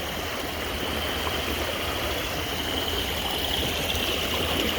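Rainwater rushes over a dirt road during heavy rain, a steady, close, unbroken wash of flowing water with no voices.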